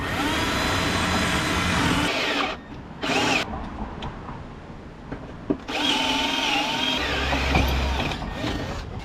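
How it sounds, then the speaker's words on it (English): A power drill bores through a steel trailer hitch receiver and the vehicle frame in loud, close, grinding bursts: a long run, a short one, then another long run, with brief quieter gaps between. "I just drilled through the hitch receiver and the frame."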